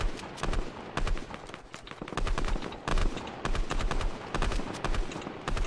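Rapid bursts of gunfire in the mobile game Fortnite, played with a controller on an iPad, crackling in dense repeated volleys throughout, loud and close with little pause between shots.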